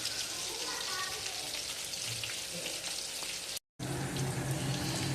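Prawns fry in hot oil with a continuous, even crackling sizzle that fills the clip, broken only by a brief gap of silence near the end.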